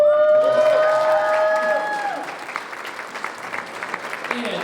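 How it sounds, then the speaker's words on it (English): An audience at a dinner dance performance applauds and cheers, a dense burst of clapping with a few whoops that gradually thins, while a voice talks over it. "A sweet clap"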